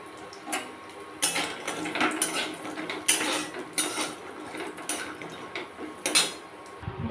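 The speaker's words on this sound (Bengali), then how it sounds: "তারপরে দেখো কড়াইতে তেল নিয়ে নিয়েছি, এর মধ্যে আগে বড়িগুলো ভেজে নেব।" Lentil dumplings (bori) frying in oil in a wok, with a steady sizzling hiss broken by repeated clinks and scrapes of a utensil against the pan, fairly close and with no talking.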